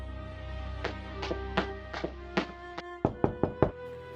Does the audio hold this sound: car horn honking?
no